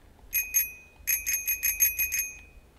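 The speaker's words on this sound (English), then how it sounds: "And then I'm going to ring this bell." A small bell rung by the goose in Untitled Goose Game: two bright metallic dings, a short pause, then a quick run of about seven more rings, crisp and close over faint low background noise.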